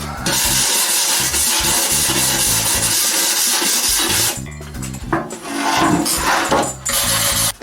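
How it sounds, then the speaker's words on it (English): Harsh, rapid scrubbing of a stiff wire brush against a welded rear hatch seam on a 1956 Volkswagen Beetle, continuous and close, with brief pauses and uneven strokes near the end. "Let me find my wire brush here, we'll hit it real quick"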